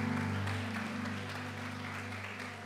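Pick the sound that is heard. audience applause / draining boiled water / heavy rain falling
audience applause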